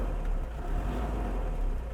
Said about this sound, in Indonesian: kekurangannya adalah ini mesinnya berisik teman-teman